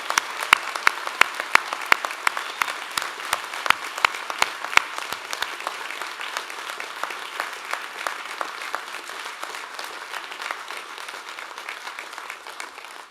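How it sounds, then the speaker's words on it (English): A graduation ceremony audience claps, opening with a few sharp, evenly spaced claps that swell into steady, moderately loud applause lasting over ten seconds before thinning slightly. "I think it would be appropriate to give them all a resounding round of applause."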